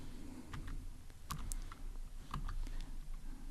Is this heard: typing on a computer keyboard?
yes